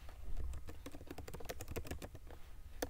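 Rapid keystrokes on a computer keyboard while entering text in Photoshop, close and clear, an irregular run of sharp clicks with no talking.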